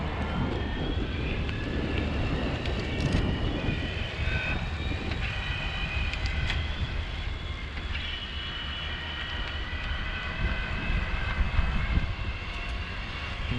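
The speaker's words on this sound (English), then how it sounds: "Definitely hear the motor here when we're climbing." A Raleigh Detour iE electric bike's hub motor whines steadily while climbing, a constant tonal hum with faint harmonics over continuous wind and road rumble, moderately loud throughout.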